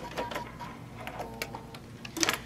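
A sewing machine runs in a short stretch, sewing quilt pieces together with a quiet mechanical ticking rattle, close and fairly soft, ending in a brief higher clatter.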